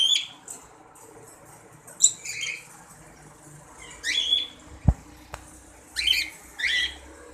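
Ino red-eye cockatiel breeder pairs in an aviary giving sharp, scattered squawks and chirps, several short calls in bursts separated by quiet gaps, fairly close with a couple of brief knocks in between.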